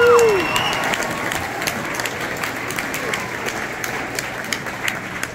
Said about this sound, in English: So let's give all the students one last round of applause for all their dedication and hard work.